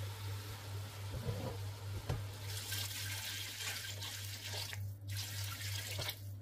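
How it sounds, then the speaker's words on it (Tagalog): Tap water running steadily into a cooking pot of pork for sinigang, a soft continuous splashing stream that strengthens partway through, faint and close over a low electrical hum, no talk. "So ito guys, lagyan ko na ito ng tubig at pakuluan ko at palambutin."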